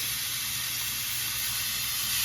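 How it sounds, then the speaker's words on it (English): Chicken breasts sizzling on a hot grill pan, a close, continuous crackling hiss that stays loud and even throughout. "That's the noise you wanna hear, that nice sizzle there."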